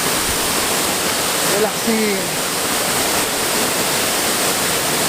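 Steady broadband roar of a waterfall in Ilocos, continuous and close, with someone speaking briefly over it.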